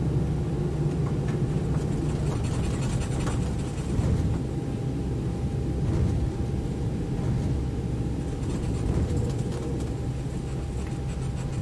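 An Airbus A321 airliner taxiing in X-Plane 11, its engines a steady, dense low rumble with a constant whine, unchanging and without voices.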